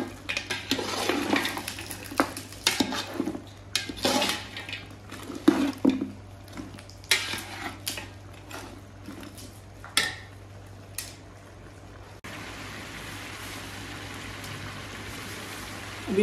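Onions and meat (gosht) are stirred in a metal cooking pot, a spoon clinking and scraping against the sides in irregular, close taps, with wet squishing between strokes. Quieter steady background noise follows.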